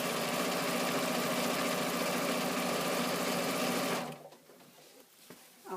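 Steady, loud whir of a sewing machine stitching quilted channels on a fabric carryall bag, running continuously for about four seconds, then stopping abruptly, leaving faint rustling and handling noises.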